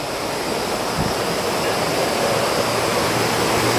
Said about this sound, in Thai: แก่งขนาดใหญ่เลยครับ